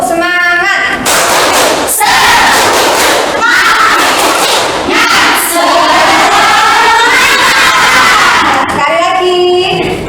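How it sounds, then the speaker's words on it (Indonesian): Schoolchildren in an Indonesian classroom perform a spirited clapping chant, loud crowd-like bursts of rhythmic claps and shouted voices filling the room, with a brief pause before a second round. "Oke, tepuk semangat."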